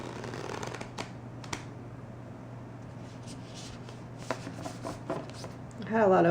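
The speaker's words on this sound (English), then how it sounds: "Just gonna shuffle." Soft papery riffling and tapping of tarot cards being shuffled close by, in short bursts, with a voice starting to speak at the very end.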